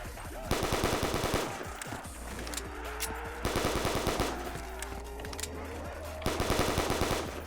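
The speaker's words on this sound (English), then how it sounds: "Ooh, this thing's like an automatic weapon, dude." Automatic pistol fire in a Call of Duty custom zombies game, set in a McDonald's map, rattles out in loud rapid bursts separated by brief pauses, with game ambience in between.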